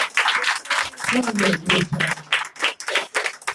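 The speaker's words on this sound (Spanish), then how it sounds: "denle un fuerte aplauso al Señor" A church congregation bursts into loud, rhythmic clapping for the Lord, while voices call out over the applause.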